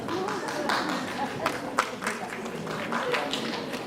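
An audience at a nursing lecture on oncology care breaks into scattered, fairly soft applause, with individual claps standing out over murmuring voices and talk.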